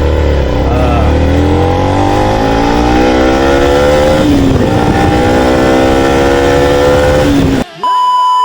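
A 2021 Yamaha Y15 motorcycle engine revs up repeatedly, pitch climbing and falling in smooth sweeps, loud and close, then cuts off abruptly near the end.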